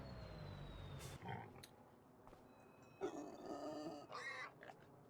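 Pigs in a barn in Farming Simulator 25 give a few scattered grunts and snorts, with short bursts of livestock noise spaced over several seconds against a low background.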